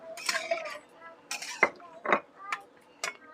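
A lid set over a cooking pan of tomato and lentil dumplings with green chillies, giving a few short metallic clinks and scrapes at moderate loudness with quiet gaps between them.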